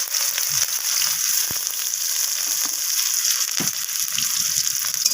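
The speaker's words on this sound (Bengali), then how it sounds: "পেঁয়াজটাকে একটু ব্রাউন রং করে আমি ভেজে নিচ্ছি" Chopped onions fry in hot oil for a mixed vegetable curry, producing a loud, steady sizzle throughout with a few low stirring knocks and scrapes.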